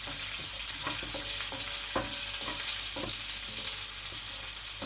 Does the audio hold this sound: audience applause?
no